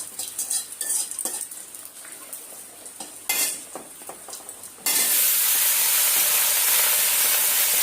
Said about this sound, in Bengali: কড়াইয়ে আমি তেজপাতা, শুকনো মরিচ তেলে দিয়েছি, আর একটু জিরা ফোড়ন দিয়ে এখন তরকারিটা তুলে দেব